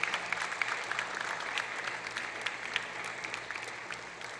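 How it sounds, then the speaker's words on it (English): An indoor audience at a school sports prize giving ceremony claps steadily and evenly for several seconds, a dense, moderately distant patter of many hands with no voices. "Can I ask all the student athletes who are here to give a lusty round of applause"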